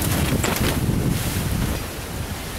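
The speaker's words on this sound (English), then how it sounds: "You hear that wind just howling, man." Wind from Tropical Storm Debby roars loudly and continuously against the microphone outdoors near the water, a dense, buffeting rush with no voice.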